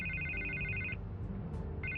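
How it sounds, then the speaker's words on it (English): A telephone rings in a Batman video game, its electronic ringtone trilling steadily, stopping briefly, then starting again over a low musical background. "I can't get the phone to stop ringing."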